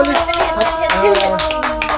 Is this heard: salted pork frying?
no